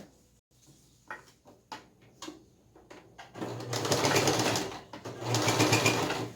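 A sewing machine stitches around a small fabric pocket for a cloth doll outfit, starting with a few short taps and clicks, then running in a loud, steady close whir in two bursts.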